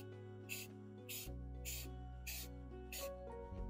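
A $5 can of spray paint hisses onto an OPS CORE FAST helmet during a camouflage paint job, in five short, even bursts about half a second apart over steady background music.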